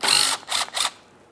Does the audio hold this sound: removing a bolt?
yes